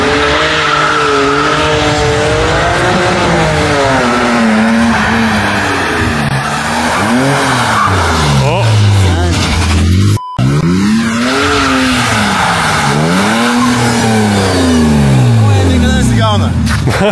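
A car slides and accelerates through a slalom course on a slippery surface, its engine revving and swelling with repeated rising and falling sweeps and tire noise, loud and close, with people talking over it throughout.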